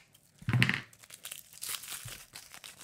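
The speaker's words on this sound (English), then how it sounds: "If we get all this plastic off here." Close crinkling and tearing of plastic wrapping off a newly unboxed jaw harp, one sharp rip followed by softer rustling and crumpling.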